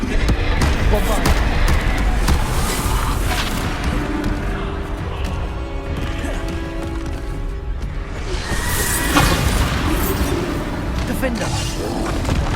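Bombarda blasting spell explosions in Hogwarts Legacy, booming impacts and whooshes within dense continuous game combat noise, with a voice speaking over them.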